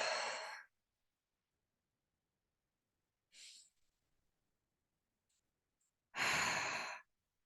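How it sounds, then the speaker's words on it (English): Slow, deep breaths taken alone in a quiet room: a long airy exhale, a shorter softer breath, then another full breath out, close and clear with silence between. "Maybe take 3 deep breaths."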